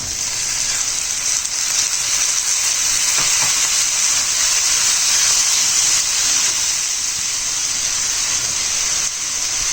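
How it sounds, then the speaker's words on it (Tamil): Three cut tomatoes sauté with softened onions in a pan for a kadai paneer gravy, making a loud, steady, close sizzling hiss that continues without a break and with no voices. "இப்போ நம்ம கட் பண்ணி எடுத்த 3 தக்காளியை போட்டுடலாம்."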